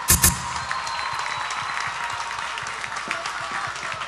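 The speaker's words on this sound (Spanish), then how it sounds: "Por favor, un efusivo aplauso para todos ellos" Applause from an audience at a university ceremony, a steady wash of many hands clapping at moderate level, continuous throughout with a brief louder burst at the start.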